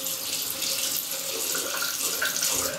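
Warm water pours steadily from a tap to wet a cotton pad, a close, continuous rushing splash with no voices.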